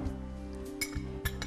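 A utensil clinks against a bowl while ingredients for chicken souvlaki, including coriander and powdered milk, are mixed. The taps are faint, quiet and sparse, a few light strikes in a still kitchen.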